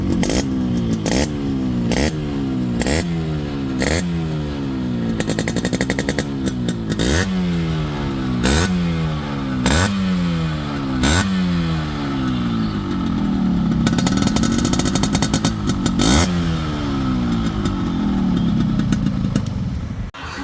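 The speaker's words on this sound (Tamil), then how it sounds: "இப்போ இந்த வண்டியோட பீட் சவுண்டு கேட்கலாம் வாங்க." A Yamaha RX100 motorcycle's two-stroke engine runs steadily and loud close by, its beat rising and falling through repeated revs with crackling, rattling bursts over about twenty seconds.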